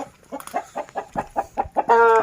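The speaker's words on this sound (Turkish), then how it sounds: "Normal yumurta tavuklarımız var." Laying hens clucking on a farm in a quick series of short, close calls, ending in a louder, drawn-out squawk.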